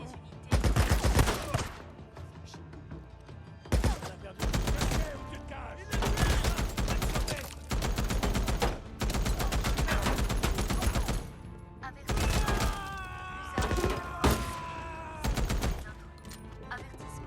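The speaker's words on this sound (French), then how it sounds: "Plusieurs coups de feu ont été tirés." Bursts of gunfire in the video game Days Gone, repeated volleys and fusillades spread across the whole stretch, loud and close, with short gaps between clusters and faint game sounds underneath.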